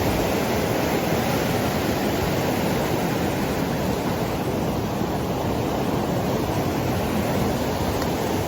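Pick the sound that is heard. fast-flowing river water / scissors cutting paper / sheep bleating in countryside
fast-flowing river water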